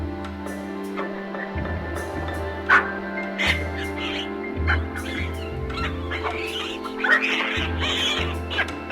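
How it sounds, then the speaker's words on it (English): Baboons call with short barks and chattering bursts scattered over a steady low background drone, loud in places and irregular in rhythm. "Baboons are very chatty and make barking sounds."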